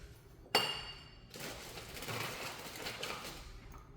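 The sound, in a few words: getting another drinking glass, glass clinking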